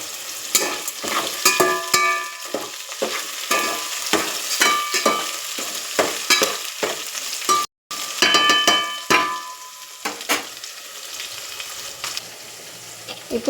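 Vegetables fry in a pan for gongura pulao with a soft sizzle, broken by repeated scraping and stirring strokes of a spatula in an irregular rhythm, close and clear.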